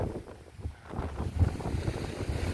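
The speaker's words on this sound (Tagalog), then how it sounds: "Medyo malakas yung hangin." Strong wind buffets the microphone in heavy, rumbling gusts at a seaside at night, with the low wash of rough sea faintly underneath.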